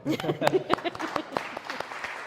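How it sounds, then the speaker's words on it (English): A small audience at a Vedanta talk breaks into light, sparse applause, a few distinct claps scattered over a murmur of voices and laughter, fairly quiet overall. "yes, well, you may applaud."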